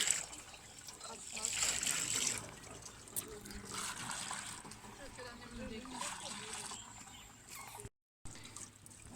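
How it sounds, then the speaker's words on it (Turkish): Water flows and trickles toward a cauldron at a village outdoor cooking spot, a steady moderate gurgling wash that runs throughout with a short break near the end, with faint voices in the background. "Suları kazana doğru akıyor."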